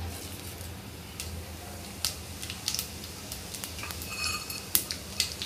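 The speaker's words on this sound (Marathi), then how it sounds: "आता आपण फोडणीसाठी जिरा घालूया।" Cumin seeds hit hot oil in a pressure cooker as tempering for veg pulao, giving a faint steady sizzle dotted with light metallic clinks of a spoon against the cooker.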